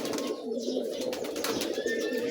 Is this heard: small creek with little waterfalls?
no